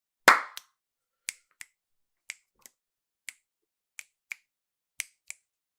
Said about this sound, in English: It's the snap.